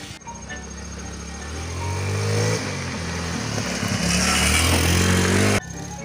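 Motorcycle engine revving, climbing from a rough idle to louder, higher revs, then cutting off sharply near the end; close and loud, with no talk.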